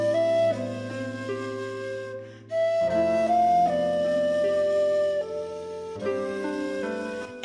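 A track from the Final Fantasy IV video game soundtrack plays as a gentle melodic piece with sustained chords shifting every second or two, steady and fairly loud, no voices.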